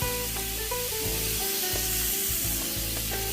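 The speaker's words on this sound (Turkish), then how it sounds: "Şimdi terbiyeledim, etimi bıraktım." A seasoned steak hisses and sizzles in a hot pan with a steady, loud frying crackle, and a few soft scrapes or bumps sound beneath it.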